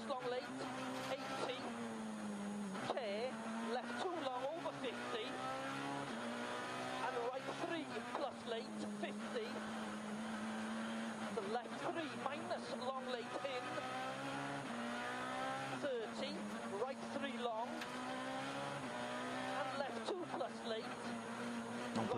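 A Peugeot 207 S2000 rally car with a 2-litre naturally aspirated engine howls along a Tour de Corse stage, revving hard with rapid gear changes that keep it high in the rev range, while a commentator talks over it throughout.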